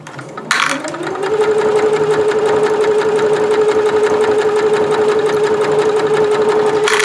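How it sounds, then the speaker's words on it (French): Electronic workshop sewing machine stitching fabric for a round bag, a loud steady mechanical whir with a fast even needle rhythm that starts up after a brief click and runs continuously, close to the microphone. "C'est les machines à coudre de l'atelier, c'est une électronique aussi."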